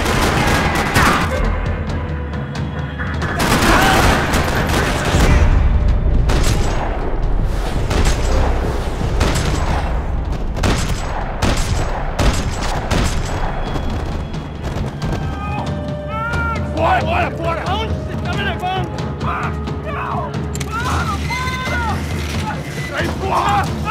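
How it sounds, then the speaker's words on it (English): Rapid bursts of gunfire and mechanical clatter fill a parking lot scene in Max Payne 3, with voices speaking over the shooting and a busy, layered game mix. "Another parking lot rattling with gunfire."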